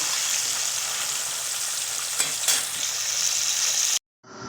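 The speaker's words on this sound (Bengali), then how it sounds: "এইভাবে আমি সবকটা মাছ ভেজে নেব" Pabda fish sizzles steadily in hot oil, a bright crackling hiss with a couple of faint clinks, cutting off abruptly near the end.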